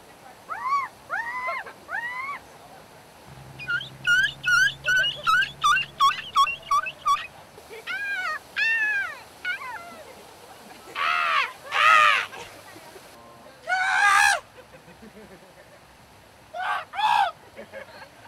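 Several people take turns imitating a seagull with their voices, squawking and cawing in short, sharp bursts of rising and falling calls, some repeated in quick series, with brief talk and pauses between the attempts.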